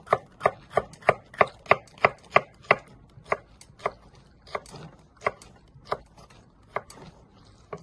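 Vegetables sliced with a sharp knife on a cutting board for chicken fried rice, a steady run of crisp, evenly spaced chops that starts quick and loud, then slows and softens slightly.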